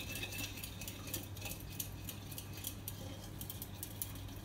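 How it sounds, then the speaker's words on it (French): A spoon stirs yeast with warm milk and sugar in a bowl, making faint, quick metallic clinks and taps in an uneven rhythm over a low background hum. "et je mélange"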